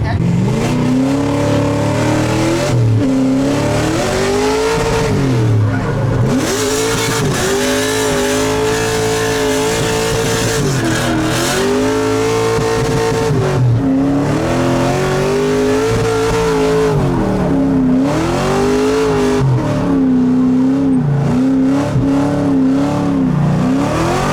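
LS V8-swapped Mazda Miata race car accelerating hard at an LS Fest event, a loud, continuous engine roar rising and falling through repeated revs and gear changes, close and dominant for the whole stretch.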